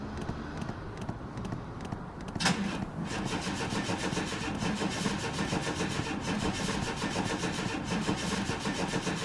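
Chevy Astro van with a check engine light on, its starter cranking steadily and continuously without the engine catching, a loud, close, rapid rhythmic churning that runs on for several seconds after a brief sharp click.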